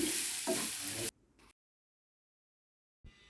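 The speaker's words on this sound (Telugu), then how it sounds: "పోపులన్నీ వేగిపోయాక బాయిల్ చేసిన ఉలవల్లి వేసి వేయించుకోవాలి" Loud sizzling and stirring of boiled horse gram frying in a pan with tempering spices for about a second, then near silence with a brief faint scrape at the end.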